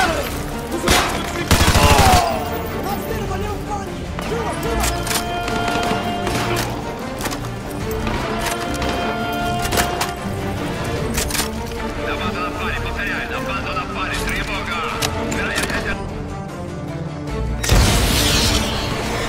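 AGM missile strikes against a BTR in a Task Force 141 PC game mission in Petropavlovsk, Russia: heavy booming blasts at the start and end over constant rattling gunfire and battle noise, with voices talking throughout.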